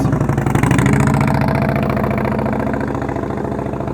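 A motorcycle engine idles nearby at a slow-speed riding skills practice session, a loud steady rhythmic putter that eases slightly in level over a few seconds, with no talking.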